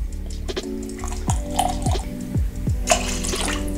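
Water with vinegar being readied in a container to hold sliced lotus root for Japanese New Year osechi cooking: liquid splashes and drips into a vessel in short bursts, with clinks, close and moderately loud.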